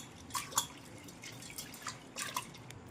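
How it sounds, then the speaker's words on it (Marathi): Lentils (dal) being rubbed and rinsed by hand in water for a tempered Marathi varan, giving soft, close drips and light splashes in brief bursts with quiet gaps between. "चोळून चोळून डाळ धुवून टाकणार आहे"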